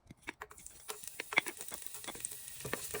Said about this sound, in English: fry the garlic and diced onions